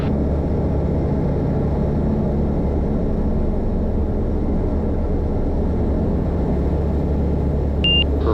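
A small airplane's engine roars at full takeoff power, a loud, dense, unbroken drone that fills the cabin, with a brief electronic beep near the end.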